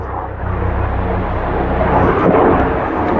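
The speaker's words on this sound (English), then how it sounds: "No, that's a helicopter actually." A helicopter flies by overhead as a low, steady rumbling drone that swells slightly midway, heard faintly at a distance with no talk over it.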